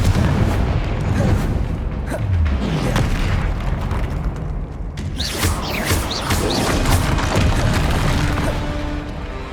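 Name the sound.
Confringo blasting spell explosion, from video game Hogwarts Legacy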